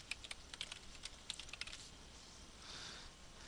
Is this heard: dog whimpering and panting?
no